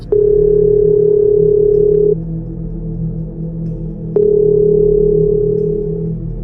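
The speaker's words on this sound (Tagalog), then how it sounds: "Tunog yun ng lumang telepono." An old telephone rings in two long, steady electronic tones with a pause between them, loud and alone against a low background hum.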